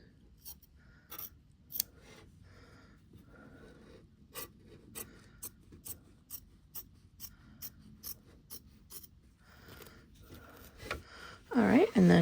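Scissors snip through fabric while a bag is trimmed, making a series of crisp, close cuts at an uneven pace, with a louder rustle of handling at the end.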